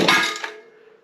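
A Mantis tiller that has sat unused for a while gives a single sharp pop while being pull-started with the choke on, a loud brief burst that quickly fades to a faint ringing tail.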